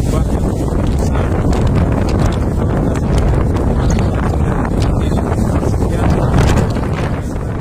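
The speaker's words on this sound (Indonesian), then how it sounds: "Telaga Sarangan sekarang lagi badai kencang sekali." Strong storm wind roars across Lake Sarangan during rain, a constant heavy buffeting that saturates the microphone with rumbling gusts for the whole stretch.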